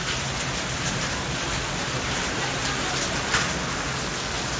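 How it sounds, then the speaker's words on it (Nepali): Hail mixed with rain comes down as a steady, dense hiss of pattering across the whole stretch. One sharper crack rises near the end, and no one speaks over it. "ओ असिना पानी पर्यो"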